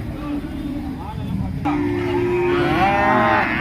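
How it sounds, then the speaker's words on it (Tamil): Cattle moo at the large Manapparai cow market, a long loud low call rising over the crowd's steady murmur, with people talking nearby. "மாடு எல்லா மாடும் இங்கே இருக்கு"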